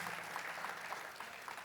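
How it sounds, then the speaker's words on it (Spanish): A church congregation applauding during a Spanish-language worship service, brisk continuous clapping at a moderate level with no voice on top. "Dale fuerte ese aplauso al Señor."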